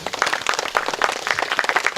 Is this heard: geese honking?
no